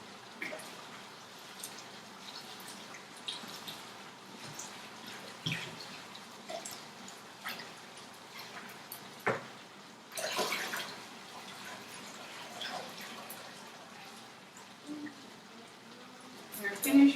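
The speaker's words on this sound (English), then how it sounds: "So we're washing our rice." Rice being washed in water in a home kitchen, with soft sloshing, splashes and trickles coming in irregular bursts, fairly close but quiet, and a person talking at times.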